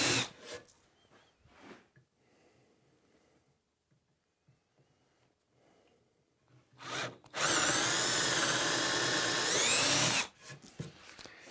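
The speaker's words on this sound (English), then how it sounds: "Then I'm going to drill a 9/32 inch hole just through the hardwood." A power drill bores a 9/32 inch hole through hardwood in a workshop, a loud continuous whine lasting about three seconds, preceded by brief bursts of drilling and quiet handling noises.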